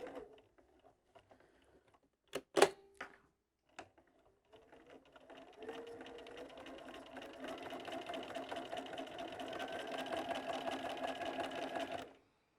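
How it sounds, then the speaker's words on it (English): A sewing machine stitches a fillet strip onto a quilt, starting after a few light clicks and handling sounds, then running in a steady rapid mechanical patter for about six seconds before stopping, close and fairly quiet. "I'm not pinning it, I'm just holding it against the quilt as I'm machining."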